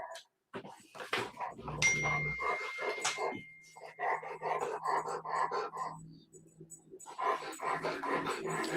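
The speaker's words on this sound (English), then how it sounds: "And I got a big huffing, puffing dog here." A big dog huffs and pants close by, breathy rhythmic puffs broken by snuffling and a few muffled noises, with occasional indoor clatter and a voice talking over it.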